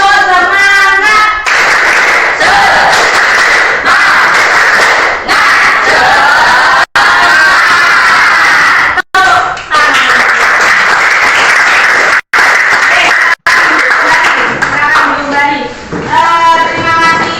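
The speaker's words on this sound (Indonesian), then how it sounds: "Tepuk semangat." A classroom group performs a loud, energetic rhythmic clapping chant together, with shouting voices and several abrupt stops between bursts, and talk at the start and end.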